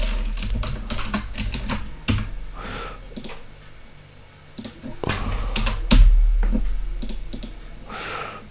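Typing on a computer keyboard to fill in a login captcha, with rapid irregular key clicks in close bursts separated by short pauses and a heavier thump partway through.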